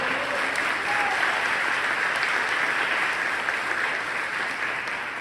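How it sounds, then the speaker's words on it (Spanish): A church congregation in San Salvador gives loud, sustained applause, a thick, even wash of many hands clapping that fills the room and tapers slightly near the end. "Denle un fuerte aplauso al Señor"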